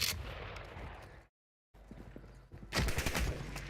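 Gunfire in the video game Black Ops 6, dense rapid shots and bursts from a firefight, cutting out briefly and then returning louder with heavy close volleys.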